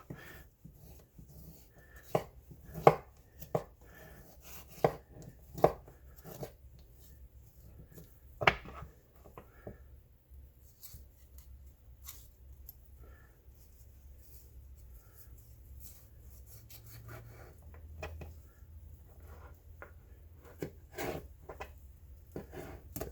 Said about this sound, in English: So I'm just cutting, stabbing in there wherever I feel bone.